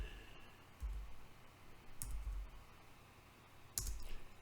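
Three separate, spaced clicks on a computer keyboard while a command is typed, faint and isolated against a quiet background, with no talking.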